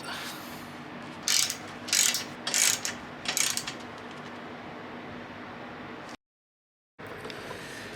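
Ratchet turning a 10 mm AC condenser bolt on a 2006 Honda CR-V, four short clicking bursts over steady background hiss, close, followed by a brief cut to silence.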